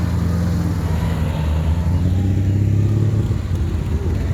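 Rally car idling and revving at a British Leyland day car show outdoors, a loud, close engine rumble with a steady low drone and slight rises in pitch, running continuously without voices.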